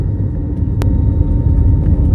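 A steady low roar of airplane engines during takeoff on a flight from Amritsar, a continuous deep rumble with one brief sharp click partway through and no talking.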